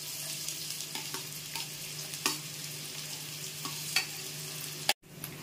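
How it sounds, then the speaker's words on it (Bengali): Chopped onions fry in hot oil in a pan, a soft, steady sizzle with a low hum beneath and occasional light clicks of a spoon, cutting off abruptly near the end. "এবার বন্ধু তেল গরম হয়ে গেছে, তেল গরম হয়ে গেছে। এবার আমি পেঁয়াজগুলো দিয়ে দিচ্ছি।"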